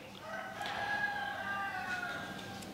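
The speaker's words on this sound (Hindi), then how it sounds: "मुर्गा शुरू हो गया वो भी शायद होंडा का है" A rooster crows in a long drawn-out call, distant and fairly faint over steady background noise.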